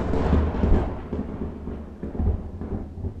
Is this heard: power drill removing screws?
no